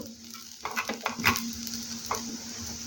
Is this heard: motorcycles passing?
no